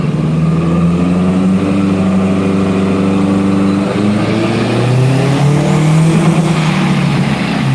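A tuned turbocharged car engine revs up steadily through a light pull at 0% wastegate duty, its loud droning pitch climbing and holding from close range inside the car, then dipping and rising again.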